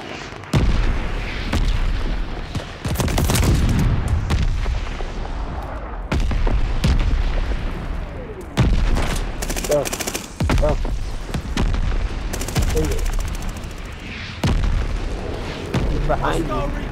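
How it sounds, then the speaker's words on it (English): Call of Duty: Vanguard multiplayer mortar barrage with heavy booming explosions and rapid gunfire bursts, loud and continuous, mixed with game voice callouts and players talking over the chaos. "Allies calling a mortar barrage."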